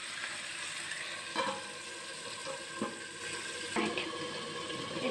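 Duck meat frying in a covered pan gives a steady, close sizzle with a few louder crackling bursts and no talking.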